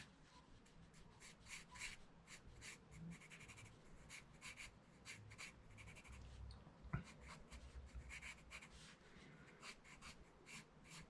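An Eberhard Faber 4B pencil drawing on a tracing pad, a quiet run of soft scratchy strokes in quick uneven bursts close to the microphone.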